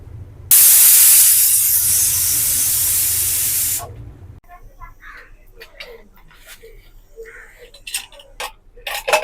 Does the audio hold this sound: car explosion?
no